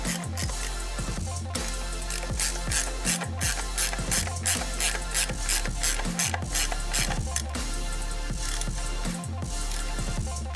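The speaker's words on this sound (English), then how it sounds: "15mm spanner to do up the wheel nuts." A 15mm spanner tightening the wheel nuts on an Airwalk bike gives a steady run of rapid ratcheting clicks over continuous mechanical rhythm, close and loud, without talk.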